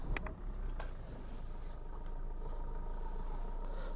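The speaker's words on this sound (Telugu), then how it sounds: "బటన్ ప్రెస్ చేస్తే వెహికల్ అయితే స్టార్ట్ అయిపోతుందండి" Maruti Suzuki Vitara Brezza ZDI+ 2018 diesel started with its push button, settling into a steady, close, low idling rumble that holds for a few seconds with no talking.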